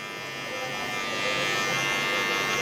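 An electric hair clipper fitted with a half guard buzzes steadily while cutting hair for a low taper fade, close and continuous, rising slightly in loudness partway through.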